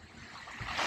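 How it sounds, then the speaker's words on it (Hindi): Waves lap and wash on the shore of Lake Victoria at Entebbe, giving a broad, close rushing swell that builds louder toward the end, with no voices. "आवाज़ सुन के आपको तो पता लग ही रहा होगा, पानी का आवाज़, लहर का आवाज़"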